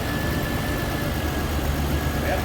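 A freshly started engine settles into a steady idle, a continuous low rumble with mechanical vibration and no talk over it.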